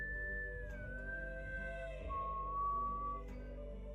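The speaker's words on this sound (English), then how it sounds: "I was picking up some whistling there." A person whistles a slow, sustained melody with gliding pitch, soft and close over a low steady hum.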